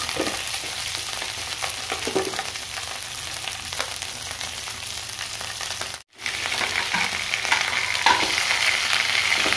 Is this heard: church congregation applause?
no